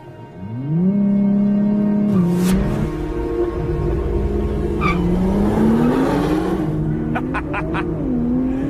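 A Nissan GT-R track edition launches hard, its engine note rising steadily as it accelerates, with wheelspin and sharp tire chirps near the end, loud and close throughout.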